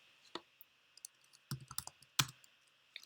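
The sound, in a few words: typing keywords on a computer keyboard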